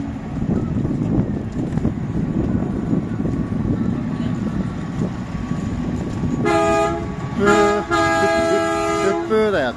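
A deep, low-pitched horn toots twice at an American festival at Kadena Air Base, rising clearly over a noisy crowd, with voices heard throughout.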